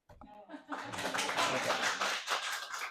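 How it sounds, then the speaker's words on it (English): An audience at a public participation forum breaks into applause, starting with a few claps and swelling into steady clapping that lasts a couple of seconds, with a voice heard briefly at the start. "That was the part where you all were supposed to clap."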